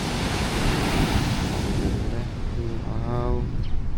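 Strong wind from a distant typhoon roars steadily across the microphone on a coastal ride in Mati City, Davao Oriental, with a brief voice near the end.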